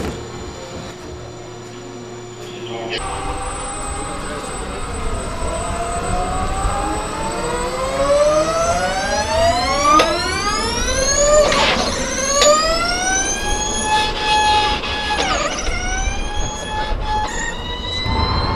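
A Formula E race car at 300 kW accelerates hard on track with a loud, close electric whine that rises steadily in pitch, briefly drops back, then climbs again, alone and with no voices.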